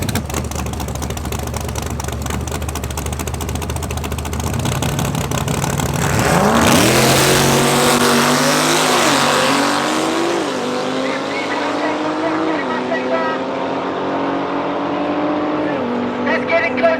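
Ford Mustang drag race cars, including a nitrous Mustang, roar down the track at Tarlton International Raceway during MSA Regionals, engines loud and rising through gear changes, with an announcer talking over the racing.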